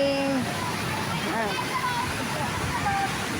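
Steady roaring rush of Majayjay Falls in the Philippines, with cold water pouring while people bathe and splash nearby, their voices and chatter mixed through the constant falling water.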